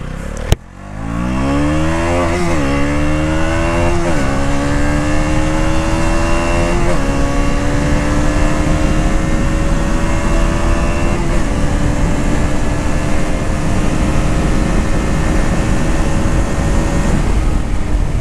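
A 2024 KTM Duke 200 motorcycle engine fires up with a sharp starter burst, then settles into a loud, close idle with several rising-and-falling revs, running on steadily throughout.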